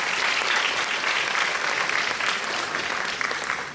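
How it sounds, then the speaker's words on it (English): Sustained applause from an audience at a jubilee celebration after a chant, a dense, even roar of clapping that holds loud throughout and eases slightly near the end. "Can we have another round of applause?"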